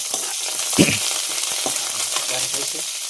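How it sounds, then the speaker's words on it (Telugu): Tempering spices sputter and crackle in hot oil for a curry-leaf and carrot dish, a close, busy sizzle with a sharp pop and stirring scrapes, no voices. "పోపు దినుసులు అయితే వేసాం"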